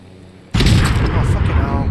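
A helicopter comes down hard during a rough landing in Call of Duty Warzone, breaking in as a sudden loud, broadband crashing roar that stays heavy and rumbling to the end.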